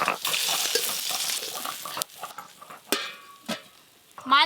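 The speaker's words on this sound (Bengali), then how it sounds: "এদিকে এই মাছগুলো ভাজা হয়ে গেল," Koi fish frying in hot oil, a dense close sizzle over the first two seconds that fades as the fish are lifted out, with a few sharp utensil clinks and scrapes after.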